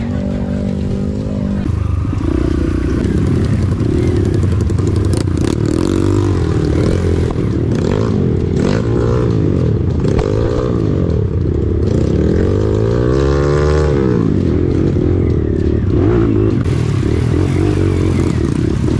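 Trail motorcycles rev steadily on a muddy off-road adventure ride in Aceh, a loud continuous engine drone with rising and falling throttle, close by throughout with no break.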